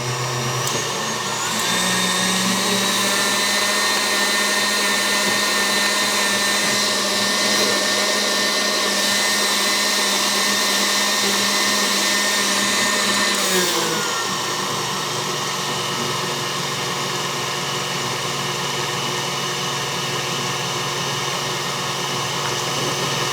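An electric mixer whirs steadily and loudly, beating egg whites and sugar for a lemon meringue, with a continuous motor drone whose pitch shifts partway through.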